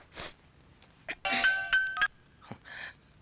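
A phone ringtone plays in short electronic bursts with steady tonal notes, mid-loud and close, between scattered handling noises.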